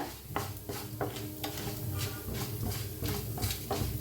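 Dry lentils, a spoonful of urad or chana dal, roast in a pan for Mysore dosa, giving a steady scraping, stirring rustle with repeated spoon knocks against the metal, close and continuous with no voices.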